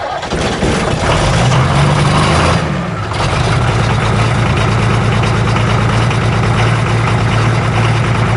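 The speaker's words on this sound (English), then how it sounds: "that basically heats the engine up to temperature so the diesel will fire off" A 1976 International Scout II with a diesel engine cranks and catches, then settles into a loud, close, rough idle with a steady low throb.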